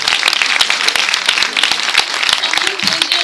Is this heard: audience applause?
yes